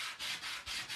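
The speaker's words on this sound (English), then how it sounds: "We're sanding that down a little bit more so that it blends in" Sandpaper is rubbed back and forth over a wood round in quick, rhythmic strokes, a faint, close scratchy rasp with no talk.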